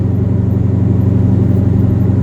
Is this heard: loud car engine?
yes